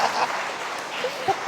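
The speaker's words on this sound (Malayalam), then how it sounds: "കൈയടിക്കൂ." Audience applause, a brief burst of clapping from a crowd at moderate volume, with some voices mixed in.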